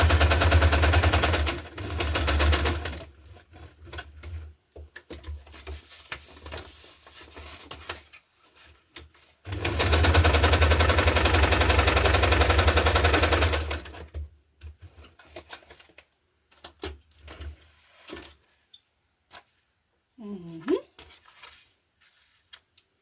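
A sewing machine stitches through a handmade hardcover junk journal in two long rapid mechanical runs of several seconds each, separated by quiet handling clicks and brief pauses, with a short remark in between.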